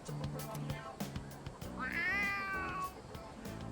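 A cat in the video game Persona 3 lets out a single drawn-out meow over background music, with a voice talking at moments around it.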